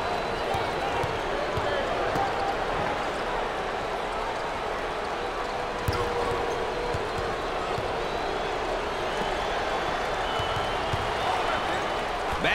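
A college basketball crowd at a Cornell at Syracuse game keeps up a steady, loud roar of cheering and noise throughout, with faint court sounds mixed in and a commentator talking over it.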